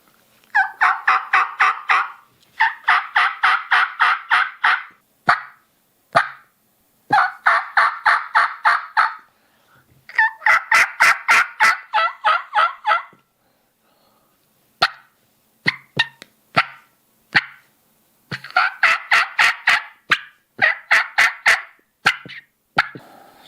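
A mouth call imitates a raspy young turkey hen in repeated rapid yelping series, loud and close, each run of harsh notes separated by short pauses and scattered single clucks.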